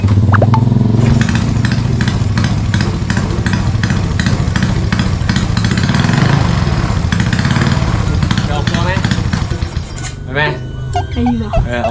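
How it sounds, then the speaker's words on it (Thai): A motorcycle engine, fitted with an aftermarket exhaust, runs loud and close with steady revving pulses, easing off near the end as a brief voice cuts in. "ฟังเสียงเครื่องก่อน"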